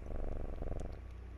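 A cat in the Layers of Fear horror video game purrs in a steady low rumble, close and quiet, with no talking over it.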